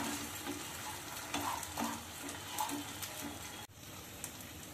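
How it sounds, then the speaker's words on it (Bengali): Tomato puree going into a frying masala for a Bengali-style jackfruit kofta curry, with a steady sizzle under scraping stirs and a few soft splats, close by, and no one talking. "আর অ্যাড করব টমেটো পিউরি, একটা বড় সাইজের টমেটো পিউরি আছে এখানে।"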